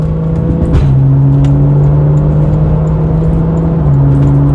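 A Porsche engine pulls hard through second gear, a loud, steady rising drone that climbs continuously with a brief shift-like dip near the start, strong and close with no talking.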